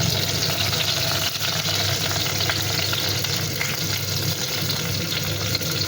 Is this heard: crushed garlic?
yes